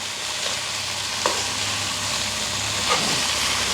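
Leeks, carrot and cabbage sautéing in a pan give a soft, even sizzle with a couple of light utensil scrapes, close and steady throughout, with no talk.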